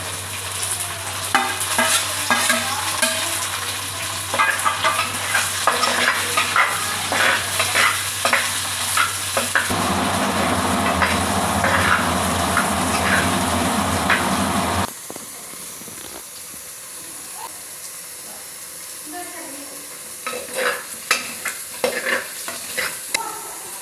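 Small onions fry with garlic and mustard seeds in hot oil, a loud crackling sizzle broken by stirring scrapes, which drops abruptly to a quieter, intermittent spatter for the final stretch.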